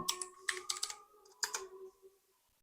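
A short burst of keystrokes on a computer keyboard as a search word is typed, quick close clicks in two clusters, then quiet.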